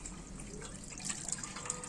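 Water running and splashing steadily during a kitten's first bath at a sink, a continuous close wash of liquid with small drips, with no talking.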